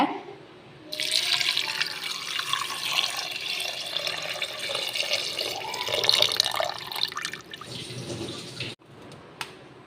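About 1.5 litres of water pours steadily into a cooking pot for goat leg soup for several seconds, splashing and gurgling at close range, then stops abruptly.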